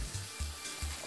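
Prawns and prosciutto frying in a pan, a steady close sizzle broken by three soft stirring pulses of the spatula, with no voices.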